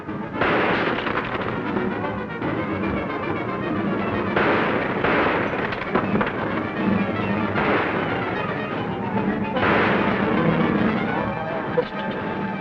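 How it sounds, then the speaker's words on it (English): Gunfire in a 1941 Western film, a dense barrage of shots and booming blasts under a thick, continuous soundtrack, with a few sharper reports standing out. "What are you shooting up in the sky for?"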